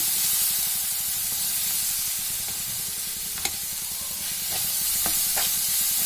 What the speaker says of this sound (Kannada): ಚೆನ್ನಾಗಿ ಹಸಿ ವಾಸನೆ ಹೋಗೋ ತನಕ ಫ್ರೈ ಮಾಡ್ಕೋಬೇಕು.